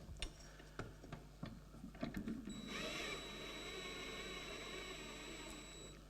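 A tap being turned gently by hand to thread a hole in a spokeshave sharpening holder, with a few sharp clicks and scrapes early, then a sustained low mechanical grinding hum with a faint tonal whine, quiet and close.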